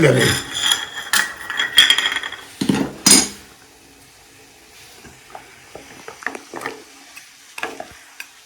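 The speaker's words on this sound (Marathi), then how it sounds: "तर आता आपल्याला हे हलवून घ्यायचे" A homemade ayurvedic remedy mixture of mint and cloves stirred in a pan, with clattering scrapes and knocks in the first few seconds, then quieter, scattered taps and soft stirring sounds.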